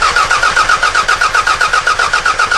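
Car engine cranking over on the starter during a compression test for a blown head gasket, a steady rapid rhythmic chug of even pulses, loud and close, with no talk.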